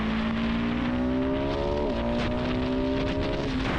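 A KTM 690 SMC-R single-cylinder supermoto accelerates in second gear, its engine tone climbing steadily with a slight dip midway, heard up close under heavy wind rush from riding.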